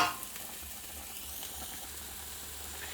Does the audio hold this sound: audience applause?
no